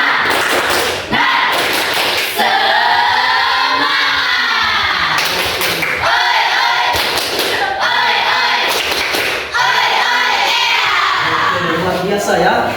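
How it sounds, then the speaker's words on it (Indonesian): A grade 11 class in a classroom performs a spirit clap routine: bursts of sharp group clapping and thumps alternate with the students' loud chanting and shouting in a lively rhythm. "Bapak tes dulu tepuk semangatnya ya."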